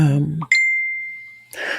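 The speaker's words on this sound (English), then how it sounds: "notifications keep going" A single bright computer notification ding rings out clearly, holding a steady tone for about a second before fading, with talk just before and after it.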